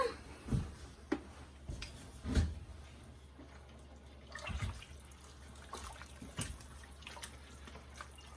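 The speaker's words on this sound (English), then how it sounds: "And we're gonna give it a good stir." Chicken and wild rice soup sloshes and drips in a pot with a few soft clunks as something stirs it, quiet and irregular, with no talking.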